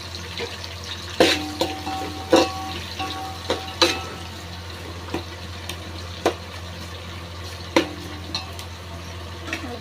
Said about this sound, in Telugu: ముక్కలు తొందరగా వేగాలి కాబట్టి కొంచెం సాల్ట్ యాడ్ చేసుకుందాం సాల్ట్ వేసుకుంటే ఉల్లిపాయలు తొందరగా ఎగుతాయి